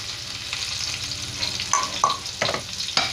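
Chopped onion and tomato sauté in a pan for a brinjal tamarind gravy, a constant sizzle broken by several sharp scraping clinks of a spatula toward the end.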